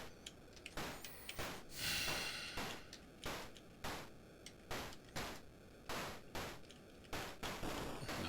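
Shooting in the Atari 8-bit game Moon Patrol, a string of sharp electronic noise bursts fired at a roughly regular pace, about a dozen shots in quick succession over a continuous game background, with no talk.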